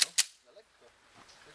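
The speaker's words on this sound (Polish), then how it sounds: "I oprze się spust i pada strzał" A gun fires twice in quick succession, two sharp, fairly faint cracks at the start, then quiet with low murmuring.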